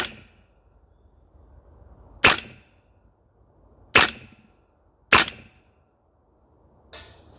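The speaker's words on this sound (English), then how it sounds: "Can we rinse the rest of these off in full auto?" A CYMA gas blowback airsoft rifle on a range fires four sharp, loud cracks a second or so apart, then a fainter fifth shot, each cut off by quiet gaps.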